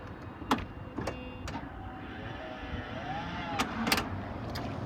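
Power lift gate motor on a Chrysler Town and Country whirring steadily at moderate distance, broken by several sharp clicks and latch knocks near the start and end.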